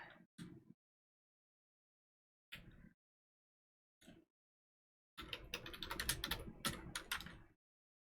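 Keystrokes on a computer keyboard: a few short isolated taps, then a dense burst of rapid typing for about two seconds, close and fairly quiet with no voices.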